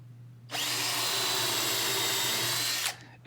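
A power drill whirs up suddenly and bores steadily into maple wood for a couple of seconds at high, even pitch, then stops abruptly; close and loud.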